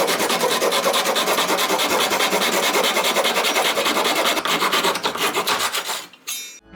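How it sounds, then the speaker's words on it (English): Steady, rough rasping of sandpaper rubbed back and forth over the cut end of a small wooden dowel for miniature furniture. The scraping runs loud and continuous, then thins into a few final strokes before stopping. "Sand it down to remove splinters and smooth out the cut area."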